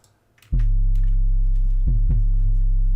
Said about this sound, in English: It's just, it makes 808 sound grittier